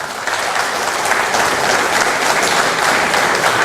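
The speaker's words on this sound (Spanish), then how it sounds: "Y bueno, un aplauso, por favor" Sustained audience applause at a disability awareness day ceremony, a dense, even wash of clapping from a crowd, loud and steady throughout.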